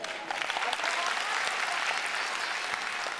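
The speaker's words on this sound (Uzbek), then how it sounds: "Omon bo'l, qarsak chalaveringlar." An audience applauds at a comedy stage show, steady dense clapping filling the whole clip with no voices over it.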